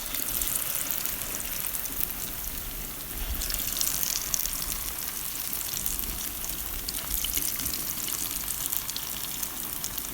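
Akara bean fritters frying in hot oil, a steady, dense crackle and hiss that holds at an even level from start to end, with no voices.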